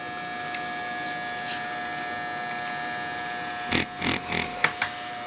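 Electric hair clippers running during a men's haircut, working the taper at the back of the head; a steady, faint motor hum sits under the clip, with louder buzzing bursts toward the end as the blades work through hair.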